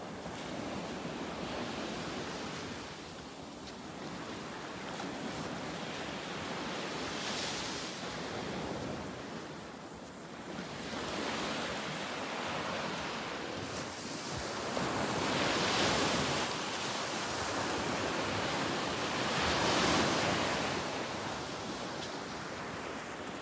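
Ocean waves wash onto a beach in a continuous rushing roar, swelling and fading in slow surges with a breezy hiss, with no voices.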